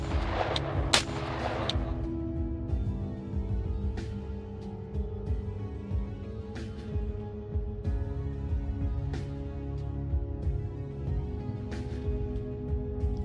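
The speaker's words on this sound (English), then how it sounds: "test the resilience of the plate by hitting it multiple times in the same area with M855A1 rounds" Repeated M855A1 5.56 steel-tipped rounds strike a 6B45 Granit ceramic body armor plate, a sharp report opening the sequence followed by a loud sustained rumble with scattered cracks and no talking.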